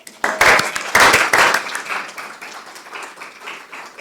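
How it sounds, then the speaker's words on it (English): A small group at a school board meeting claps for students, a burst of close, distinct handclaps that peaks early and thins out gradually toward the end. "I would love to give them a round of applause"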